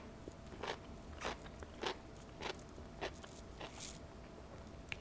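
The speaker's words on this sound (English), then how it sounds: "Now, this pickle is a little bit thinner than the one I tried before, so not as much crunch factor" Crisp, crunchy bites into a thin Grillo's dill pickle spear, about six sharp crunches spaced roughly half a second apart, close up with no talking.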